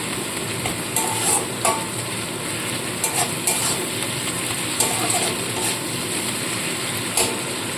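Ginger-garlic paste and spices fry in a pan for a potol (pointed gourd) recipe, a steady close sizzle with repeated scraping stirs of a spoon.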